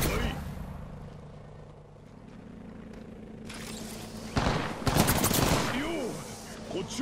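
Gunfire in the video game Apex Legends comes as loud, sharp bursts and volleys after a quieter stretch, with rumbling impacts between them and a voice speaking near the end.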